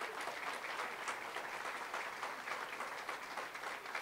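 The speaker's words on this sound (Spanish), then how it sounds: "¿Cuántos pueden darle un aplauso fuerte al Señor?" A church congregation applauding loudly during a sermon: sustained, even clapping from many hands, somewhat distant and soft in level, with no speech over it.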